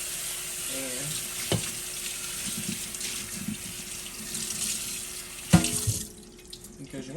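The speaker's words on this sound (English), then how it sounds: "put your top in the sink. Wash your top off." Tap water runs steadily into a kitchen sink as a pot lid is rinsed, with a couple of sharp clanks of the lid against the basin, and the flow cuts off near the end.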